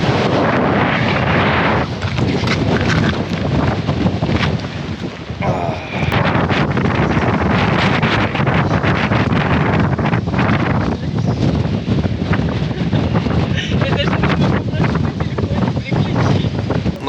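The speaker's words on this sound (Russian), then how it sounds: "Ветерок на горе." Strong wind buffets the microphone on a mountain top in the Polish mountains, a loud, continuous roar with gusts, while people talk underneath.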